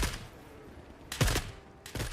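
Gunfire in the shooter game The Forever Winter: a few loud, close bursts of shots, one starting the clip and two more heavy volleys near the end, with no talking.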